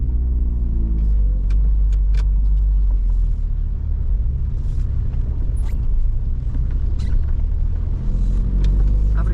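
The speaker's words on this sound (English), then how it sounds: "GTE is on the move for the first time since last summer" A Vauxhall Nova GTE pulls away after months parked, its engine a loud, steady low rumble that stays close throughout, with small mechanical clicks and knocks on top and no talking.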